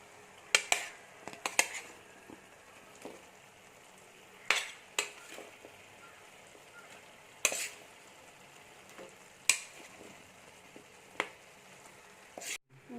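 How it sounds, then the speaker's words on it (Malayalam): Fried chicken is stirred into a sizzling masala in a pan: a soft steady sizzle runs under a dozen sharp metal spoon scrapes and clacks against the pan at irregular intervals. "നമുക്കിനി ഇതിലേക്ക് ചിക്കൻ ഇട്ട് കൊടുക്കാം"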